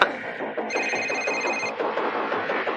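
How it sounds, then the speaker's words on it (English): A mobile phone rings inside a jail while a line of about fifteen prisoners stands waiting, its steady electronic trill sounding for a second or so over a busy background of murmuring voices and movement. "all of a sudden this mobile phone starts ringing"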